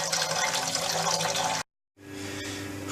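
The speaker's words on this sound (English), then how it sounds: "just going to start running the sparge water." Sparge water for beer brewing pours and rushes steadily, breaks off into a moment of silence, then resumes as a slightly softer continuous flow.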